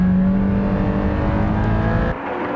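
Two Nissan 350Z cars with VQ35DE engines, a base unit and a Rev-up, race on a track. A loud, close engine drone holds steady harmonics, then drops sharply in pitch and level near the end as the throttle lifts.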